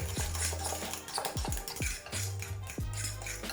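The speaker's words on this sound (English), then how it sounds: "Add your oats and continue to mix" Oats being mixed into banana pancake batter with a utensil in a bowl, a steady series of scraping, knocking strokes against the bowl, close and clear with a soft wet stirring texture and no talking.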